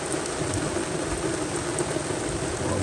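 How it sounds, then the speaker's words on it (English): Heavy tropical rain pours steadily onto a sailboat at sea in the Atlantic doldrums, a dense, loud, unbroken hiss with no voices. "it's time for the second tropical rain today"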